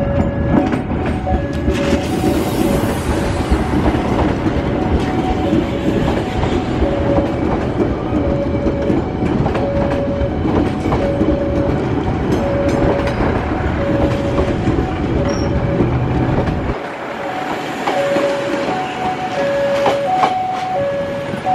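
An inspection train rolls into Cicalengka station with loud, continuous rumbling and rhythmic wheel clatter, a sustained horn-like tone repeating across the middle, before the low rumble drops away near the end as it slows.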